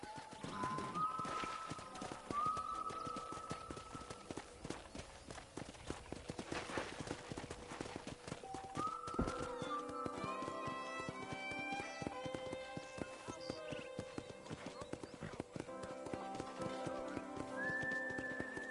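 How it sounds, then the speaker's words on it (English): Horse hooves clip-clop steadily through a Red Dead Redemption ranch scene, broken by several loud neighs and whinnies over game music, with faint birds in the background. "let's see if you can still ride a horse"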